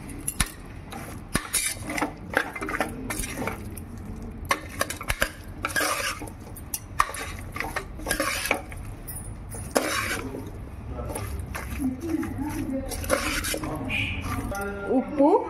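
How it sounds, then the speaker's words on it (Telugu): Spices such as turmeric and garam masala get stirred into an aloo biryani mixture in a pan, with repeated scraping and clinking of a spoon and a light sizzle, while a voice talks intermittently. "ఇలా బాగా మిక్స్ చేసుకోవాలి"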